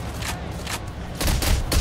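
Bursts of gunfire in the Payday heist shooter game, rapid overlapping shots and booms from several weapons during a firefight, loudest toward the end.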